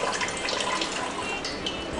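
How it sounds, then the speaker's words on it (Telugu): Water pours in a steady, even splashing hiss onto rice being mixed for Hyderabadi chicken dum biryani, continuous and fairly close with no talking. "మన రైస్ కలుపుకోవడానికి వాటర్ వేసుకుందాం"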